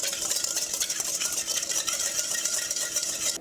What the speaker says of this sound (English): So I'm going to whisk this a little bit.